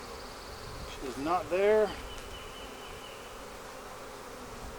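Honeybees hum softly and steadily in an open red Flowhive during a search for the queen. A person speaks briefly over the faint buzzing.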